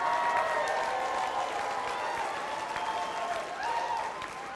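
A live audience at a keynote talk applauds and cheers, a steady wash of clapping from many hands that stays loud throughout and tapers slightly at the end, with no speech over it.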